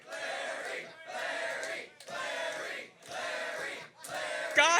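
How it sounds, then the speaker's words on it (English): A live audience at a drag show at a Pittsburgh venue shouts a name in unison five times, each loud rhythmic chant separated by short pauses. "a bunch of gay and trans people are shouting your name"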